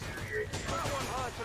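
Gunfire in the XCOM 2 video game crackles in a rapid, dense burst of shots, mid-loud and continuous, over game ambience.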